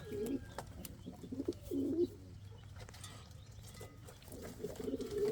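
Indian fantail pigeons coo in low, soft, repeated bursts close by, with short pauses between calls and faint background noise.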